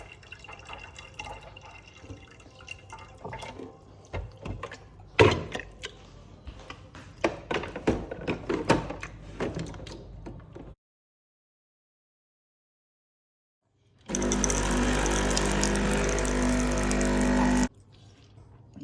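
A Delonghi Magnifica coffee machine runs a descaling cycle: first a stretch of dripping and trickling water, then a few seconds of silence, then a loud, steady pump burst lasting several seconds before it cuts off.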